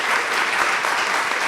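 A conference audience gives a round of applause for a panel on racism in academia, a thick, steady roar of many hands clapping together without pause, close and loud.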